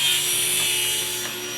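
Saw cutting a glued-up block of wood in half for gymnastic rings, a close steady rasping drone with no talking.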